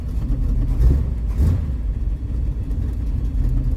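A rattling rumble of an X-frame truck's exhaust routed through the frame, a steady low engine drone with a slight swell near the start, no voices.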